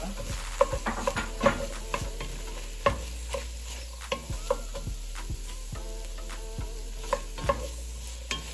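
Corn cut off the cob tossed into a hot sizzling pan and stirred, a steady fry hiss under repeated scraping and clacking of a spoon against the pan, close and moderately quiet, with no talking.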